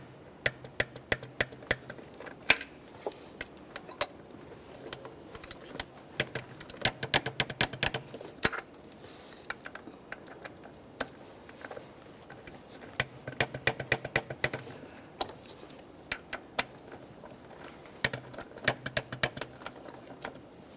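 Torque wrench tightening the ignition coil bolts on a 2012-2018 Nissan Maxima 3.5L V6, heard as a faint run of sharp, quick clicks and ticks in scattered bursts over a quiet background.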